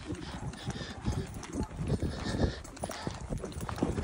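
Hooves of a ridden horse thud and clop unevenly on rough, brushy ground while working cattle, close by and continuous, mixed with rustling brush and some breathing noise.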